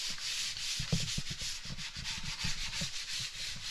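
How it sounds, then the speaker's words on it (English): Sandpaper rubbing over an outside plaster corner repair, a steady, close, continuous abrasive scratching in quick back-and-forth strokes with no talking. "Alright, I'm going to sand it."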